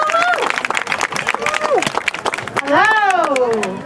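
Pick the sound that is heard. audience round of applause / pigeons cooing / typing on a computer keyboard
audience round of applause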